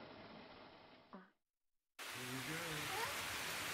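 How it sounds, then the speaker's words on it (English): Steady outdoor rain hisses loudly and evenly after a short quiet gap, with a person talking over the downpour. "We're going to go out there in the rain."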